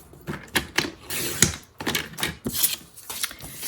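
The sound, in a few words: cutting calendar paper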